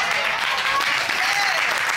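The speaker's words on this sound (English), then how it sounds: "I got to clap for that one" Studio audience clapping in a courtroom TV show, a steady, dense wash of applause that holds at full strength for the whole stretch with no voices over it.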